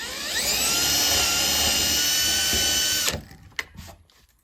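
A portable drill press bores holes with a loud, sustained high-pitched whine lasting about three seconds. The motor then spins down into a few clicks and knocks.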